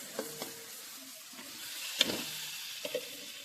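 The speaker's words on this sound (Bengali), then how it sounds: "এবার ভালো করে মশলার সাথে কষিয়ে নেব" Fried potatoes and cauliflower being stirred into a tomato spice masala in a pan, with a soft steady sizzle, occasional scraping and clinking of a spatula, and no talking.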